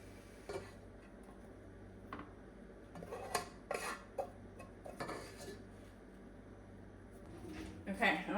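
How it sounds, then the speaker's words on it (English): Food being mixed in a pot on a just-switched-off stove, with scattered scraping and clinks of a utensil against the pot in irregular bursts, fairly quiet, alongside someone talking. "just kind of mix it up here"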